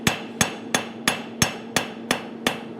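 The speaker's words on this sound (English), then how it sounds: "it's just easier to move this material under my hammer" A forging hammer strikes hot metal in a steady rhythm, about eight sharp, ringing blows spaced evenly a little over a third of a second apart, loud and close with a faint hum between hits.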